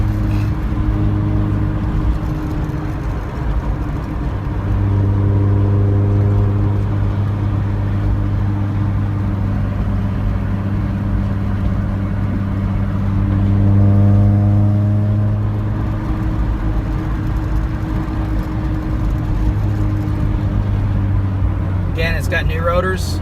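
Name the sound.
1988 Honda Civic wagon driving at almost 60 mph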